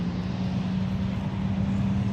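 A big delivery truck rumbles steadily on a road beside a front-yard garden in central New Jersey, a continuous broadband engine roar with a low hum, nearby and without talk.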